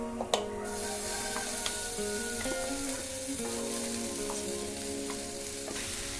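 Ground masala paste sautéing in a pan for a no-oil prawn snack, a continuous close sizzle with scraping stirs and faint tonal hums, steady level throughout without speech.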